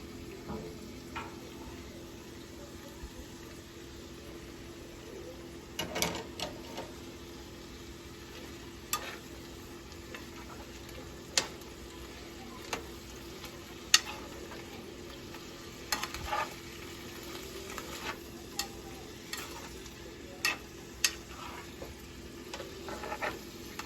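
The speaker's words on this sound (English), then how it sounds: "I'm just going to cook enough for the sausage to get warm." Sausage warms in a pan of butter sauce with a quiet, steady sizzle, broken by scattered small pops and crackles over the whole stretch.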